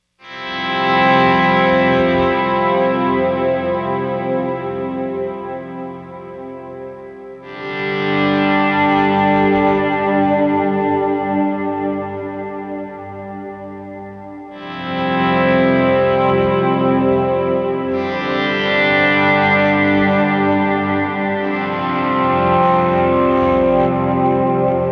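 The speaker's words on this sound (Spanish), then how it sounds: "esa es la guitarra con los swells" Electric guitar chords swell in slowly with effects, sustained, distorted and reverberant, four long overlapping swells that each fade before the next rises.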